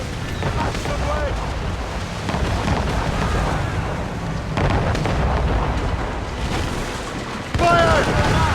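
Ship cannons firing in Assassin's Creed Rogue, with repeated booming blasts over a steady rumble of sea and battle, while crew voices shout orders throughout.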